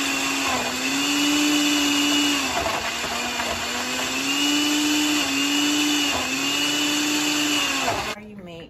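A blender making a mango smoothie roars at high speed, a steady loud whirring drone that drops off abruptly at the end, with faint talk beneath it.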